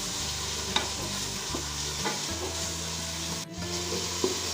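Masala for kadhi pakora fries in a pan with a continuous close sizzle, while the spoon scrapes through it in slow, regular stirring strokes over a low steady hum; nobody speaks.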